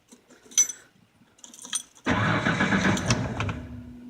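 A 1989 Ford F-150 with a 5-speed being started: a few light jangles and clicks of the key first, then the engine catches abruptly and settles into a loud, rough-sounding idle close by.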